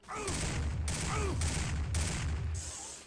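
Plasma rifle fire in Turok 2 Remastered, with three or four loud, close energy-weapon bursts in a steady rhythm, each followed by a short ringing sweep.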